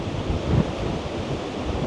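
Strong ocean waves breaking at a Boracay beach, a loud broad roar of surf with a slight surge partway through, mixed with wind buffeting, and no talk.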